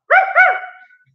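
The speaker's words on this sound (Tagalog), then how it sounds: "Pangalan, tapos tahol." A single dog bark, loud and close, stretching into a short drawn-out tone that fades within a second, with no other sounds around it.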